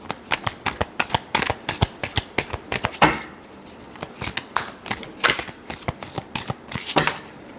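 Tarot cards riffled and shuffled by hand at close range, a busy stream of crisp flicks and slaps with uneven rhythm and no talk over it.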